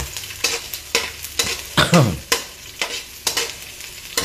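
Garlic and onion sautéing in hot oil for adobong sitaw, with a steady sizzle broken by repeated scraping strokes of a spatula against the pan, close and fairly loud.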